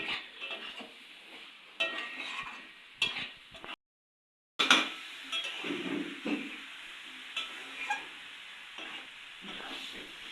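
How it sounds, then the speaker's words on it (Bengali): A spatula scrapes and stirs through banana flower and spices sizzling in a pan, in intermittent strokes with a brief silent gap partway through. "সব মশলাপাতি দিয়ে আরও বেশ কিছুক্ষণ নাড়িয়ে নেওয়া হবে"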